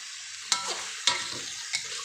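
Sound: stir-frying mixed meat with holy basil in a wok

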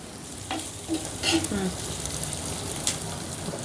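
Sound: green chillies frying in oil on medium flame

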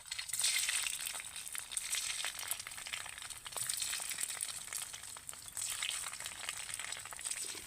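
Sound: homemade bottle gourd paneer pieces frying in hot oil

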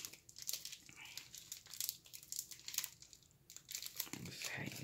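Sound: tearing open a wax pack of NFL trading cards

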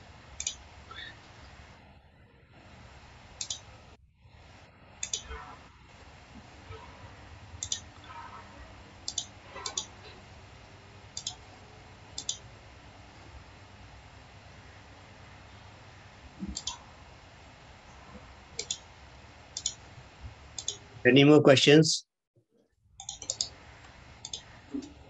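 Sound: typing on a computer keyboard

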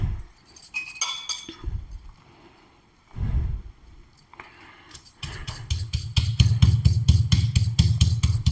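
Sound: crushing curry leaves for fish curry

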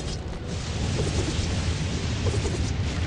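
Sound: lightning spell striking in video game Tower Conquest

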